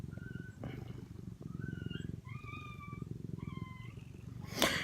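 A domestic cat purrs close by in a steady, pulsing rumble, broken by a few high, chirpy meow-like calls, and the clip ends with a brief rustling burst.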